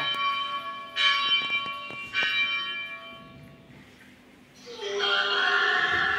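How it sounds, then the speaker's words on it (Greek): A church bell rings out in two clear, resonant strikes that linger and fade, then a loud, bright burst of sound rises near the end. "Τι ακούμε? Καμπάνα."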